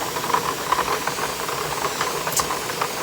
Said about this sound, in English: we're now starting to get the steam going